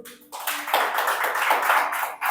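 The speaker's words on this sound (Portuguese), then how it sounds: "Palmas para Jesus." Church congregation clapping hands together during worship, a dense, steady patter of many palms that starts abruptly after a brief quiet moment and continues close and lively to the end.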